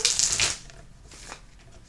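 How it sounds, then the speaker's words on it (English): A short, bright flutter of a tarot deck being riffled close up, followed by quieter soft shuffling rustles. "I'm going to do 3 riffle shuffles"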